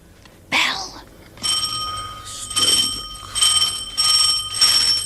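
An electronic doorbell chimes in a home, several bright ringing tones repeating in short bursts after a brief spoken exclamation, clear and fairly close.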